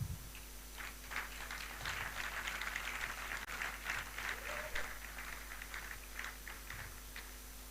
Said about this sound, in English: So can we clap?